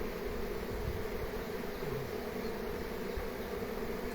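A swarm of honey bees settling into a baited hive makes a thick, continuous droning buzz, near and steady throughout, with no talking.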